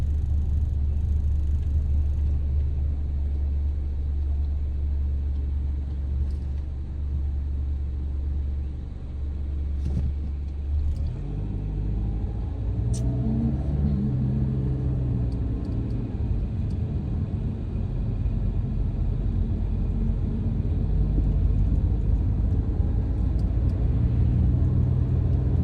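Heavy road traffic rolls past in a steady, continuous rumble, with a deeper engine drone for the first several seconds and then a broader wash of passing vehicles, fairly close and with no talk.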